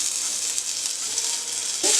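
Poppy seeds dry-roast in a pan for a somas stuffing, giving a steady, soft crackling hiss that ends with a brief, louder scrape of stirring.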